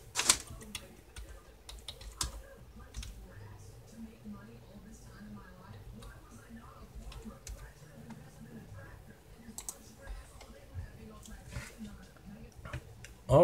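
Typing on a computer keyboard: quiet, scattered keystroke ticks, close but faint, in a hushed room.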